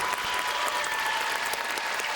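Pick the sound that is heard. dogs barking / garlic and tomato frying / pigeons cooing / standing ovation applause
standing ovation applause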